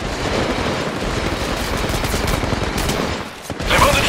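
Rapid automatic gunfire rattles in the mobile battle royale game Apex Legends Mobile, a dense, loud fusillade of overlapping shots that briefly dips before another burst.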